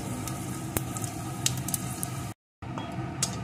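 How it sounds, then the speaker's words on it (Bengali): A dry red chili and five-spice whole spices fry in hot oil, a steady close sizzle with occasional pops and crackles and a brief silent gap, no voices. "ফোড়নগুলোকে সুন্দর করে ভেজে নেব।"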